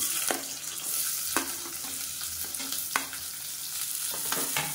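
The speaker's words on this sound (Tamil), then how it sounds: "இப்போ எண்ணெய் நல்லா சூடாகிடுச்சு. இதில் பார்த்தீங்கன்னா சின்ன வெங்காயம் 2ஆக கட் பண்ணதை சேர்த்துக்கலாம்" Halved shallots fry in hot oil with a steady sizzle, punctuated by a few sharp clicks of a spoon stirring against the pan; no one speaks.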